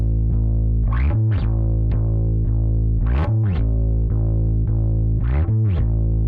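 A distorted synth plays sustained buzzy notes with rhythmic pitch swoops and pulsing accents, thick and loud with no voices.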